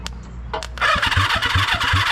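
A 1982 Kawasaki KZ550 motorcycle engine turning over on the starter after sitting ten years, a quick rhythmic chugging crank that starts up after a brief quiet lead-in with a couple of faint clicks.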